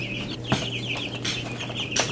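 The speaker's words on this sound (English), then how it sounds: "Chickens are loving the Chicken Coliseum." Chickens in a coop cluck and murmur in short, overlapping calls at close range, with a few sharper sounds of movement.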